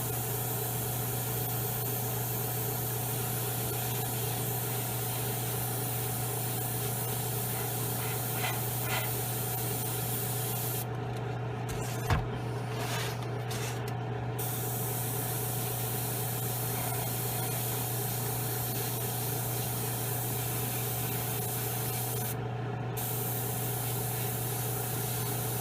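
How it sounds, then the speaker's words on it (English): Spray paint hisses in a continuous, even stream over a 1/35 Italeri Leopard 2 tank model kit, holding steady and close throughout with barely any pause. "you want to make sure that you spray very lightly"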